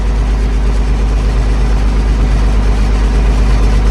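An International Harvester 1586 tractor idles shortly after a cold start, its heavy diesel engine droning in a loud, steady low rumble that holds unchanged throughout.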